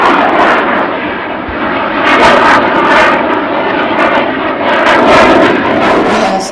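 A military jet roars overhead at an outlying airfield, a loud, continuous broadband rumble and rush that swells and holds steadily throughout, with no voices.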